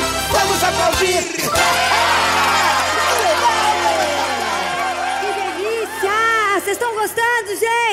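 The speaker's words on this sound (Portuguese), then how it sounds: "Então vamos aplaudir" Children in an audience cheer, shout and whoop loudly at a live kids' show with costumed clowns, the crowd noise continuous over music, with lively voices throughout.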